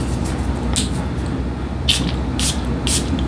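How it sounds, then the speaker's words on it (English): A bottle of men's fragrance is sprayed several times in short hissing bursts, about four spritzes spaced unevenly over a steady low room hum. "Three good sprays."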